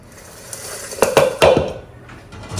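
Cooked pasta being mixed with olive oil in a bowl, a few close clinks and scrapes of utensil against the bowl in a short cluster, with no talk.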